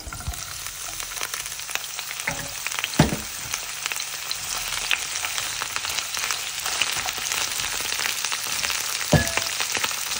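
Artichokes and a clove of garlic frying in extra virgin olive oil in a pan, a continuous close sizzle with crackling pops and a few louder sputters, no talking.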